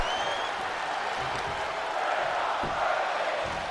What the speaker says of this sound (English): This crowd now screaming, "We're not worthy,"